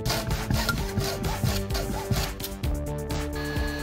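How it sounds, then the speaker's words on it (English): A hacksaw cuts through an AN fuel hose wrapped in white electrical tape while a Porsche 924S/944 fuel tank is being redone, giving steady, close back-and-forth rasping strokes that run continuously. "I wrapped some white electrical tape around the AN fuel hose to give myself a good place to cut with my hacksaw"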